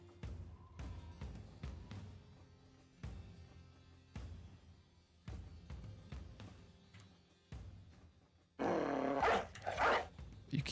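War dog barking in the Battle Brothers game, several short sharp barks and growls spaced across the clip amid game sound effects, ending in a louder burst of noisy combat sound.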